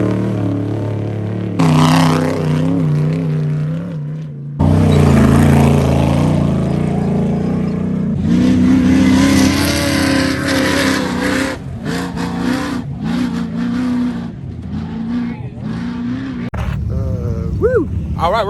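Off-road race vehicles testing at King of the Hammers roar past on a desert road, engines revving loudly with shifting pitch and passing surges, while people talk over the noise.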